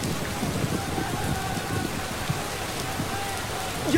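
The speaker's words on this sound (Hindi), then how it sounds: "बारिश आ गई।" Steady rain patters on surfaces, a dense even hiss with scattered drops, while faint voices murmur in the background.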